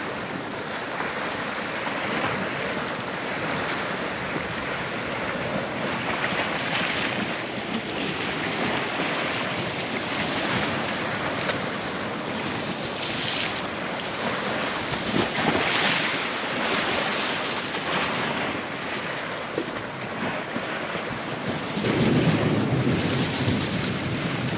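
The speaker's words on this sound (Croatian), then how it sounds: "Evo more se ponovno počelo dizati." Sea rising again at the harbour in Čikat after the water had drained from the shallows and bathing area, a continuous loud rush of wind and surging water with wave wash building near the end, no voices.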